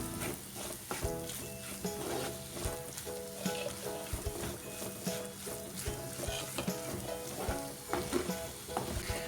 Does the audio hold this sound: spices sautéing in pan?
yes